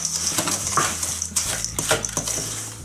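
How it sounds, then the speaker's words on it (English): Melted butter is stirred into fine biscuit crumbs in a bowl, giving close, continuous scraping and gritty clinks of a utensil against the bowl in irregular strokes, with no talking. "we're just going to stir this through until it's nice and combined"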